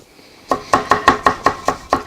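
Rapid knife chopping on a cutting board in a kitchen, about eight sharp, evenly spaced knocks in quick rhythm, close and fairly loud with no talk.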